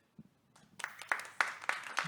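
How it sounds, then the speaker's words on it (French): A small conference audience starts clapping: a few scattered claps, then a brief round of applause building in a quick, uneven rhythm, fairly close. "Je tends le micro pour que tu puisses entendre les applaudissements"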